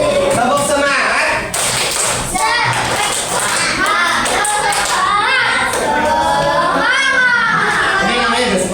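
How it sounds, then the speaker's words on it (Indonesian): A primary-school class chanting and clapping a rhythmic group cheer routine, fast claps and voices from many children mixed together, loud and close in a classroom. "Tepuk semangat."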